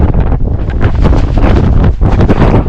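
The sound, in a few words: strong wind blowing on a mountain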